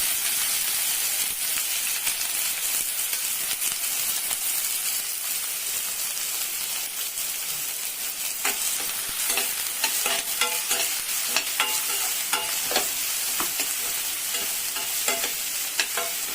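Finely chopped onion fries in hot oil and is stirred, giving a loud, dense sizzle with a rain-like hiss and repeated scraping strokes close by throughout.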